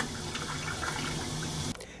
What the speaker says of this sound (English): We begin completely at the cruise ship toilet and its terrifying noise.